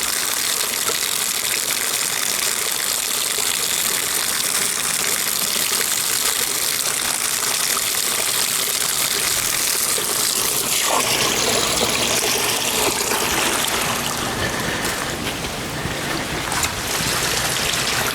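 Garden hose running water into a backyard pond during a water change, a continuous splashing and trickling rush that stays steady throughout, close and fairly loud, with no voices.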